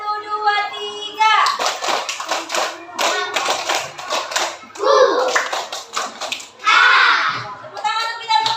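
Primary-school class of Indonesian third graders clapping in counted rhythmic bursts, sharp group claps mixed with chanting children's and teacher's voices nearby.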